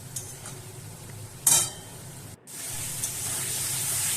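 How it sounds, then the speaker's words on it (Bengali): Chicken curry masala being sautéed and stirred in a pan: a steady low sizzle with one brief spatula scrape, a short pause, then the frying hiss resumes and builds. "খুব ভালো মতোটা কষিয়ে নেবো"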